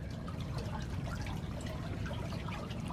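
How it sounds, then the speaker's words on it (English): Water flowing from a river through a channel into fish ponds, a steady soft trickling and gurgling rush, continuous and fairly faint, with no voices. "you may be able to see the water flowing in that direction"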